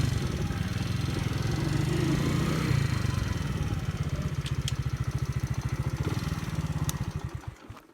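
A motorcycle engine idles in a steady pulsing rumble, then pulls away as the clutch is let out, the sound fading out near the end.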